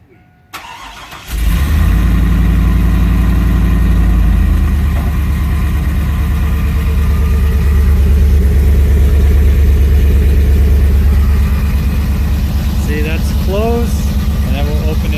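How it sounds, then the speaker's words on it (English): A Chevrolet Silverado with its electric exhaust cutout closed cold-starts after a quiet moment, cranking briefly and catching into a loud, steady, deep idle that stays close and constant, with a voice speaking near the end. "we're gonna do a cold start."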